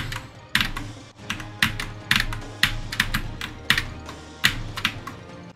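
Typing on a Wooting 2HE computer keyboard, close and clear: bursts of quick key clacks in irregular clusters, with softer tapping between them and no voice over it.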